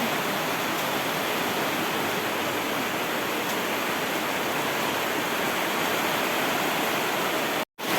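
A steady, dense rush of floodwater from typhoon rain fills the scene, constant and close, with a brief dropout near the end.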